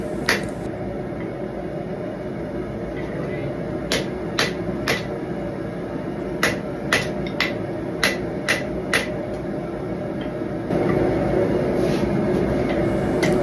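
Sharp metallic straight-peen hammer strikes on hot steel forging a hunting knife guard, about a dozen blows in irregular clusters, ringing over a steady background hum, with no talking.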